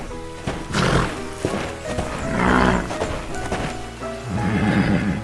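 A brown horse neighs and whinnies, with hooves clip-clopping through a busy, dense mix of animal sounds that stays loud throughout, no talking.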